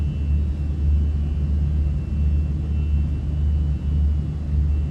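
Fenix A320 airliner engines in Microsoft Flight Simulator, a steady low droning rumble with a faint high whine, constant and unbroken.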